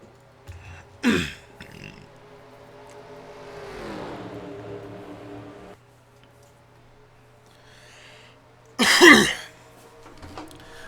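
Someone commentating a simulated Daytona 500 stock car race clears his throat twice, about eight seconds apart, each a short, sharp rasp over a faint, steady race-car drone.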